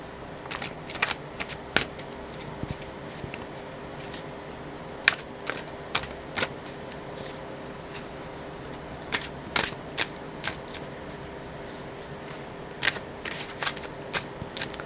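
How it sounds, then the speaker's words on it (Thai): Tarot cards are shuffled in repeated bursts of crisp riffling snaps, close by and fairly quiet, with short pauses between runs. "เราจะทำการ สับไพ่เป็นพร้อมกันนะครับ"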